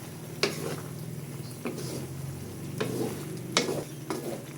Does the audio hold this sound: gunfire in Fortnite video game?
no